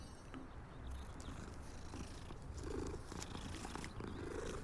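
A cat purrs steadily while being petted in Hogwarts Legacy, a close, continuous rumbling purr heard alone with no talk.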